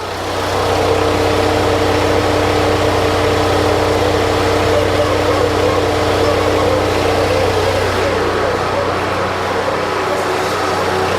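A 2016 Toyota Tundra TRD Pro engine idles with a steady, loud, continuous drone and hum, easing slightly near the end; no talking.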